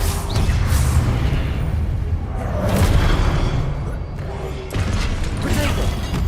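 Confringo blasting curse explosions in the Hogwarts Legacy video game: loud, dense booms and crashing bursts with whooshing swells over a constant roar, peaking near the middle and again toward the end.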